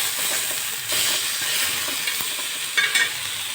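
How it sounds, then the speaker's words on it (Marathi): Cut tomato roasting on a hot tawa griddle gives a steady sizzle and hiss, with a few brief scraping or stirring clicks along the way and no talking. "टोमॅटो आपल्याला कापून तो पण भाजून घ्यायचा आहे तव्यावर"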